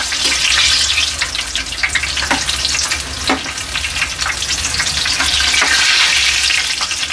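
Chili bajji fritters deep-frying in hot oil, a loud, steady crackling sizzle that runs the whole time with small pops and bursts, close up, with no voices.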